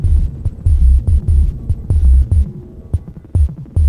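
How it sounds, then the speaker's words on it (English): A Dreadbox analog synthesizer plays irregular, random percussive hits, each a loud low thump with a short buzzing tail and gaps of near silence between them. "Next, I'm gonna make some random percussive sounds using this Dreadbox synth."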